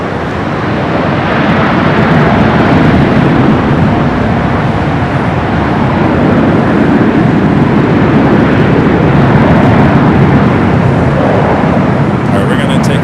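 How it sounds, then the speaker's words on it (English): A KLM airliner rolls down runway 24 left at LAX, a loud, sustained broadband engine roar that holds steady throughout as the jet accelerates, with a voice talking over it. "KLM now rolling down at 24 left."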